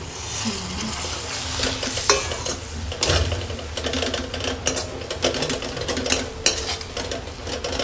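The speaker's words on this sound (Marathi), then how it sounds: "फ्राय केलेला कांदा ठेवलेला सक्कुरकुरीत केला आहे आवाज येत असेल तुम्हाला" Close scraping and rattling of a spoon stirring crispy fried onions in a pan, with a dry rustling crackle throughout and occasional sharper clinks.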